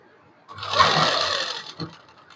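A sewing machine stitches fabric for a designer suit in one steady burst of about a second, fairly close and moderately loud, winding down with a short final whir.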